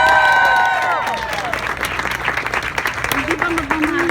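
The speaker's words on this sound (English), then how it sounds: "a big round of applause one more time for your United States Navy and Marine Corps Blue Angels" An airshow crowd in Jacksonville, Florida, applauds and cheers for the Navy and Marine Corps Blue Angels jet team, with clapping and cheers under a fading public-address voice and some tonal sounds near the end.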